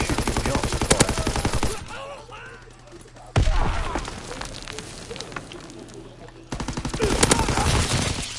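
Rapid automatic gunfire from Call of Duty WW2 multiplayer, loud rattling bursts at the start and end with quieter scattered shots between, while players talk over it.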